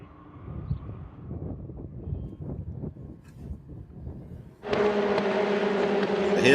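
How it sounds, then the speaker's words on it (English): Eurocup-3 race cars accelerating up the hill at Motorland, first a low rumbling wind-buffeted roar, then a sudden loud high-revving engine scream that grows louder toward the end. "Here they go then, accelerating up the hill, racing once more."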